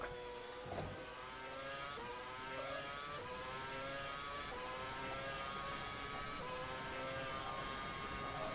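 Screaming engine of a 2013 Formula 1 car in the rFactor 2 racing sim, held high in fifth gear; a steady, loud whine with rising harmonics runs through the whole stretch, no voices over it.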